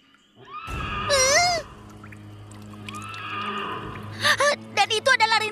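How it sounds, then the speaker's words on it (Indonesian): A wavering, moaning whinny of a cartoon headless horse rises and falls, followed by a rapid burst of high-pitched, breathy neighing pulses, mixed with background voices and music. "Dan itu adalah rintihan kuda tanpa kepala."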